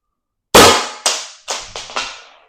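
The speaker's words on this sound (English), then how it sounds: "So we're going to puncture CO2 and ready for first shot." Byrna CO2 launcher fired once with a sharp, loud crack, followed by several quicker, weaker pops that decay in succession, with no talking over them.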